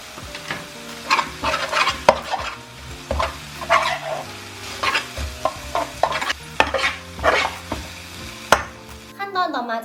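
Kimchi fried rice with gochujang is stir-fried in a pan, with irregular scraping spatula strokes over a close sizzle and brief clanks, ending in a short ringing tone.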